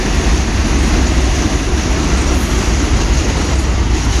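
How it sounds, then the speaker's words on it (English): A New York subway 4 train roars past close by, a loud continuous rumble and rattle of wheels on track with steady metallic noise throughout. "Sorry, this is the 4 train."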